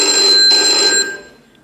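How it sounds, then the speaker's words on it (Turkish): A telephone rings in a Turkish high school stage play, one loud bright trilling burst lasting about a second, then cutting off and fading into room echo. "Doktor bey, telefon var."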